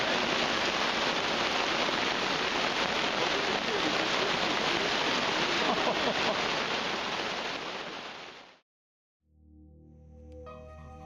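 Heavy tropical rain pours down at a camp in Guyana in a dense, loud, steady roar that cuts off abruptly near the end, leaving a brief quiet and faint low sounds.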